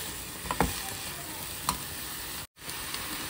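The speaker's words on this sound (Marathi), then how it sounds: "या साईडला सगळे व्हेजिटेबल्स घातलेले आपण आता थोडेसे सॉटे करून घेऊ" Mixed vegetables sauté in a hot pan with butter, salt and black pepper for white sauce pasta: a steady close sizzle with a few sharp stirring scrapes, then a brief gap before the frying noise resumes.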